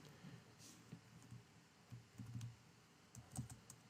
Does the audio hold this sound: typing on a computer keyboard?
yes